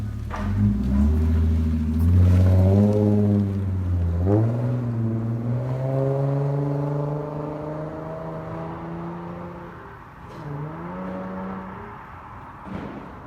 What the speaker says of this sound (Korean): 주행 소리도 아주 고음도 아니고 중저음으로 낮게 딸리는 소리가 아주 좋습니다